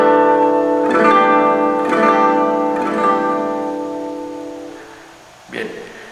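Jazz guitar chord voiced with an added ninth and sixth in manouche style, strummed three times in a slow steady rhythm, each ringing close and full before slowly fading, with a soft knock near the end.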